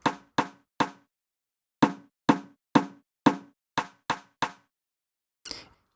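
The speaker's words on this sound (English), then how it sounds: "The amplitude varies in a very specific way throughout that drum sample." Sharp, dry drum hits play alone in a spaced pattern, three quick strikes, a pause, then seven more in a steady run, each decaying fast, ending with one softer, filtered hit shaped by EQ processing.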